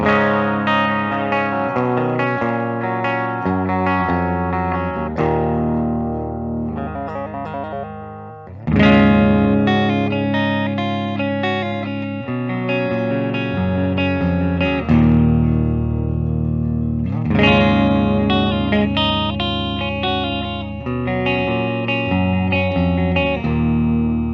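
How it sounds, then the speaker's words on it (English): Fender Ultra Luxe Jaguar electric guitar on the bridge pickup in humbucking mode, with a bright, distorted tone, playing sustained chords and riffs with effects, no talking. "I'm going to start in full humbucking mode, starting with our bridge pickup here."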